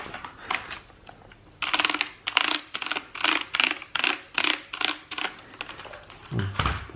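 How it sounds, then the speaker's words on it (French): Keys on a mechanical keyboard pressed in a steady run of sharp, loud clicks, close and alone, after a few sparse taps at the start. "Et un clavier mécanique."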